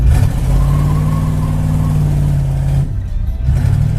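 A loud, rough engine of an old 1969 Chevy C10 pickup truck runs steadily close by with a deep rumble, cutting out briefly near the end before picking back up.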